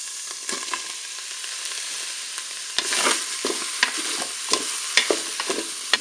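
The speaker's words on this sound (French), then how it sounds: "je vais faire revenir le tofu. Je vais maintenant ajouter les champignons de Paris" Tofu and button mushrooms frying in a Cookeo multicooker, a loud close sizzle with scraping stirs and several sharp clacks of a utensil against the pot in the second half.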